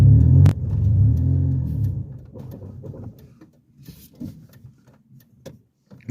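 Manual-transmission car engine revs loudly and rumbles near the start, then drops to an uneven idle with a few small knocks and clunks.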